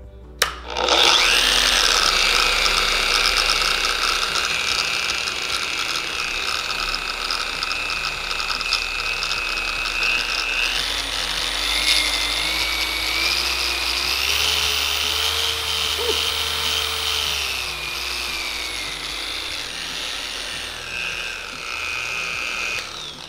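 Bauer random orbital sander from Harbor Freight running steadily with a loud, continuous motor whine and rasping hum whose pitch shifts as the speed dial is raised and then lowered, with no talking.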